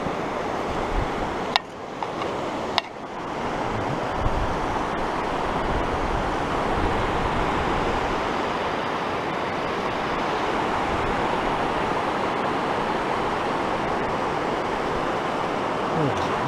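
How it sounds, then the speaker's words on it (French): Mountain torrent rushing near a glacier in the Rhêmes-Golette area, a steady, loud broadband roar of turbulent water close by, with a couple of brief sharp knocks early on and no talk. "On va traverser ce torrent"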